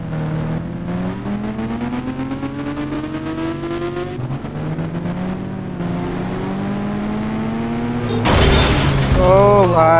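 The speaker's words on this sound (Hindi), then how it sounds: "भाई यार क्या यार, एक्सीडेंट कर दिया मैंने तो।" Motorbike riding in the Indian Bikes Driving 3D mobile game: a steady, rising engine whine runs throughout, then a loud, sudden crash bursts in near the end.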